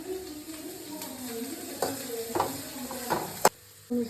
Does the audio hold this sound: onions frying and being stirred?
yes